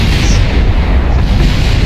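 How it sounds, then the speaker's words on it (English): A rocket crashes and breaks apart in Kerbal Space Program, letting out a continuous roar of overlapping explosions, loud, dense and booming throughout with no pauses. "you can just hear all those explosions"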